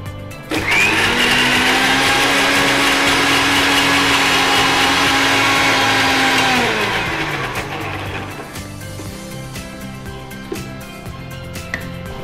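A kitchen mixer grinder blending kokum buttermilk, a loud steady whirring motor drone that runs for several seconds, then winds down and stops, leaving quiet room noise.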